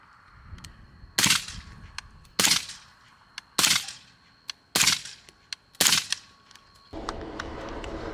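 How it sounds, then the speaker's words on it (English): Five sharp, loud gunshots from an Aero Precision LAHAR-30 rifle are spaced about a second apart, recorded close on a camera, each with a brief echo tail before noise picks up at the end. "this is how it sounds, the LAHAR-30 on the GoPro"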